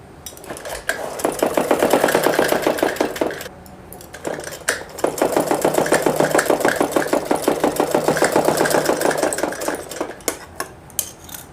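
Close by, a sewing machine runs a long stitch along the folded hem of a suit in fast, rhythmic clatter. It pauses briefly, resumes in a longer steady run, then slows toward the end.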